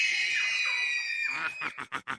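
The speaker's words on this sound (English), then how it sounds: "The wolf grinned and the little lamb screamed." A cartoon lamb lets out a high, sustained scream that trails off into quick breathy gasps, loud and close with nothing else around it.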